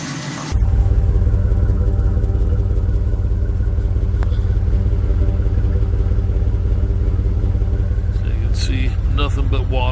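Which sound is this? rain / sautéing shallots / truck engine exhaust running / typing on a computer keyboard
truck engine exhaust running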